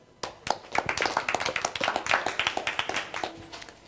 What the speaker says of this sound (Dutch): Mag ik een applaus voor Jan Willem?